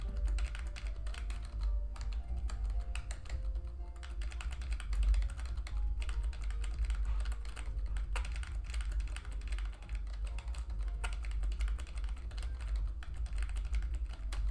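Rapid, steady typing on a computer keyboard while playing Pokemon Crystal. The key clicks come close and quiet in a continuous uneven patter with no voices.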